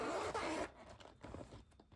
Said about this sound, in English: Sorry about that zipper noise.